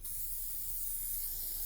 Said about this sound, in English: So is this going to spray like a spray paint?